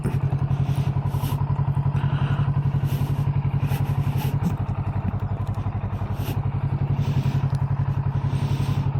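A Kawasaki Z650 motorcycle on a test ride, a twin, gives a loud, steady, rhythmic engine thrum that holds at a fairly even pitch through the whole stretch, with no voices.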